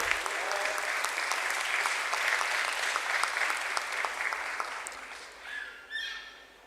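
Steady applause from an audience at a stock exchange listing ceremony for an industrial company, filling about five seconds before thinning out, with a few scattered claps and a brief voice at the end.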